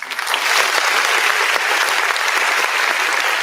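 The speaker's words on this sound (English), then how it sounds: "we're gonna give him a round of applause" An audience gives a round of applause, dense steady clapping that starts abruptly and holds loud and even throughout.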